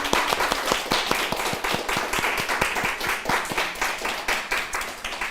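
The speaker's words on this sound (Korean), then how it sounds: "우리 박수로 하나님께 영광 드리겠습니다." A church congregation claps in a quick, regular rhythm, dozens of crisp hand claps close together and fairly loud, with no talk over them.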